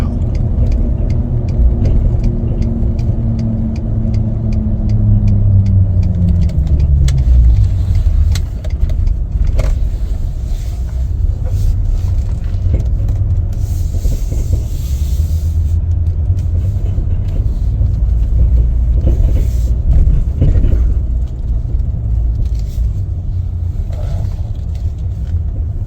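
A lifted 2017 Ford F150 XLT 4WD crew cab pickup driving, a steady low engine and road rumble heard from inside the cab, with a falling whine early on as it slows and some faint clicks.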